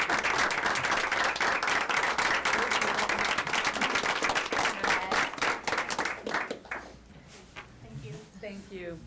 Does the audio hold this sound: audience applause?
yes